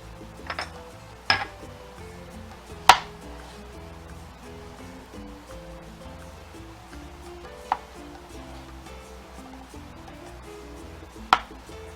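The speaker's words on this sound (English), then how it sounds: "Now we're going to chop this guy up." A knife chops a chili pepper on a cutting board in a kitchen, a handful of sparse, sharp single knocks spaced irregularly over a quiet background with faint clinks, no talking.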